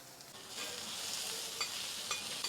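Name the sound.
onion being sautéed in a pan for tomato chutney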